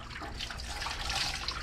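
Hot water runs from a tap in an old mobile home, a steady close rushing splash with no one speaking.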